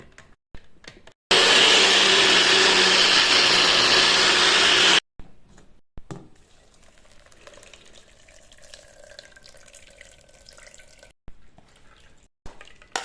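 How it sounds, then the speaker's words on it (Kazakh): A blender whirs loudly and steadily for about four seconds as it blends homemade milk with warm boiled water, then cuts off abruptly, leaving quiet handling and faint running water. "Блендерден өткіземіз."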